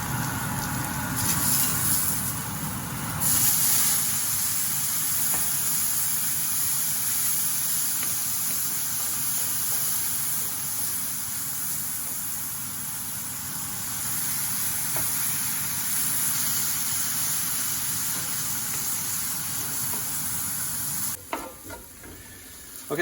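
Onions sizzling in a pan on a home stove, a steady close frying hiss that runs continuously with occasional stirring and cuts out near the end.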